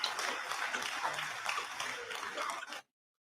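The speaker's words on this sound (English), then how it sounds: "I don't know if y'all hear that hand clapping in the background, right?" Hand clapping from a union contract negotiations rally held virtually, a dense, steady patter of many claps running in the background for about three seconds, then cutting off abruptly.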